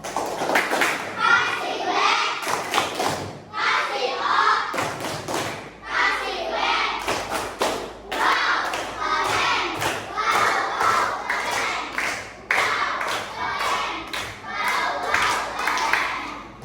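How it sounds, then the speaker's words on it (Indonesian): A primary-school class in an Islamic religious education lesson claps in rhythmic patterned bursts for a student group, sharp hand claps alternating with children's chanting and shouted voices, loud and close. "Beri kasih tepuk untuk kelompok 1"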